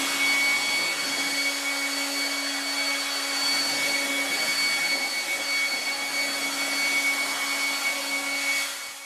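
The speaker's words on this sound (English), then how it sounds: "going to start by blowing the leaves and" A leaf blower pushes leaves and debris off a deck, giving a steady, loud, broadband whoosh with a constant motor whine that runs unbroken throughout.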